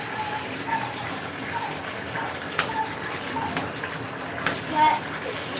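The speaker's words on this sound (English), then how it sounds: "It's just warm water." Warm water runs steadily from a tap during a rescue dog's bath, a constant hiss and gush with a few splashes and knocks over it.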